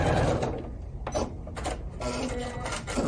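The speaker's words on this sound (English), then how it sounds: "backstitching when you get to the end" A sewing machine backstitches a stocking seam, its mechanism whirring and clattering up close in short stop-start runs that shift rhythm as the stitching reverses.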